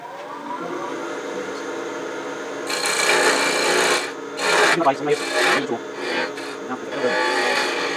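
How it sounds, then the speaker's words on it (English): A detail gouge cuts a wooden box on a woodturning lathe. Soft background hum gives way to a series of loud, rasping cutting passes, each a few seconds long with brief breaks between them. "let's get in here with that detail gouge and back it down a little bit"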